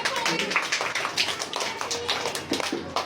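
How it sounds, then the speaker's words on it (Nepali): Children in a classroom clap together in a dense, continuous patter of claps for a few seconds. "ल ताली बजाइदिनु।"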